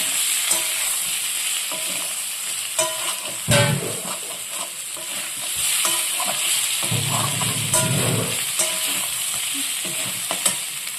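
Spice paste for Bengali aloo dum with potatoes fries in a pan as a little water is added, giving a steady sizzle with brief louder hissing bursts and stirring scrapes.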